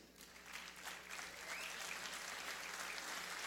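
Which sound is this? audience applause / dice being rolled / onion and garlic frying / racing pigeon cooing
audience applause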